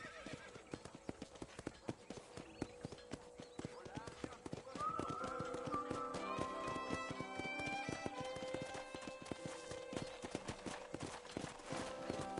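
Horse hooves clip-clop steadily in the Red Dead Redemption video game, with occasional whinnies, under people talking and background game audio.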